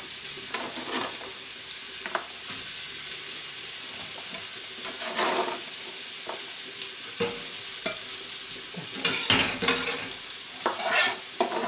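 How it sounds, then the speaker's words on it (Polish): Potato burger mixture with chopped onion is worked by hand, giving wet squelching and stirring sounds with irregular louder squishes, close and continuous, no speech. "a teraz wyrabiamy masę i uformujemy dwa buty"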